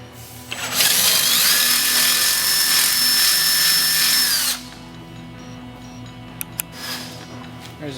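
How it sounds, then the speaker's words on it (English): A power drill bores plug-weld holes through the steel frame of a Yamaha XS650 motorcycle during a brat kit install, one loud sustained run of about four seconds with whining pitch, then a quiet shop with faint knocks. "we want to drill some holes for the plug weld."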